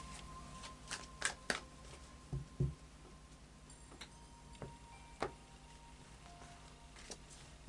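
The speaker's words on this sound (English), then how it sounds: "And then a final shuffle of the Light Seers Tarot." Light Seers Tarot cards being shuffled by hand, quiet irregular riffling and soft taps in short bursts, close and alone without talk.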